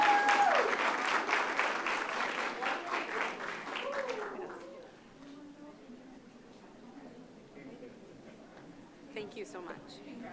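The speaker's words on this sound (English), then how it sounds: "Let's give them one more round of applause." Dense audience applause at a city council meeting, with a steady wash of clapping that fades out after about four seconds. Voices and murmured talk follow.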